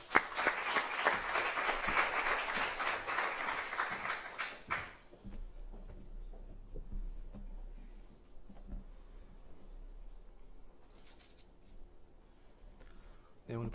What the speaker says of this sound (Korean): 우리 따뜻한 박수로 모시겠습니다.